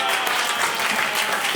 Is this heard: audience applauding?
yes